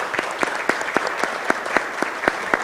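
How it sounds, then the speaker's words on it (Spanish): A small audience claps for panelists at a solidarity economy and peace forum, a sparse, fairly even pattern of distinct handclaps filling the room at moderate volume. "denle un gran aplauso a nuestros panelistas"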